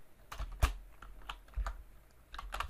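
Computer keyboard typing, a short burst of several quiet keystrokes in an uneven rhythm, close up with no one talking.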